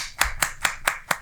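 Audience applause welcoming a guest onto a TV Eid special show, five sharp, evenly spaced claps heard close and clear over a quiet background.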